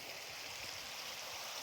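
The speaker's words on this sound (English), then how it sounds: "And the creek that's running past here, you see that?" A creek runs through a forest as a faint, steady rush of water, continuous and even, with no voices over it.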